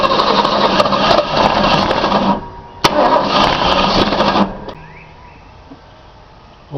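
A small block Ford engine with a points eliminator conversion cranks hard in two long bursts of rapid starter churning, each ending abruptly, with a sharp click between and a quieter pause after.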